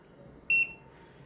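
A weighing scale's electronic buzzer gives one short, clear, high beep as an item is added, standing out against a faint, quiet room background.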